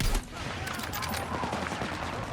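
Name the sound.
gunfire in a video game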